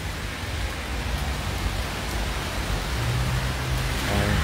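Steady rain falls on a city street in Antioch, Illinois, a continuous hiss of drops close by, with a faint low rumble toward the end.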